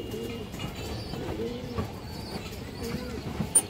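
Pigeons coo in soft, repeated low phrases close by, with a few faint sharper taps and rustles. People can be heard talking over the birds.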